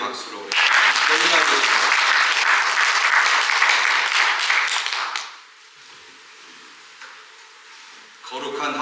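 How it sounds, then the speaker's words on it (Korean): A church congregation at a Sunday service bursts into loud, sustained applause for several seconds, then it drops away and someone speaks briefly before another swell of sound at the end. "다시 한번 크게 박수로"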